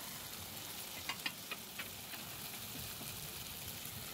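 Grated radish hits a hot pan of spiced masala and fries with a soft, steady sizzle, faint and close, with a few light clicks of stirring.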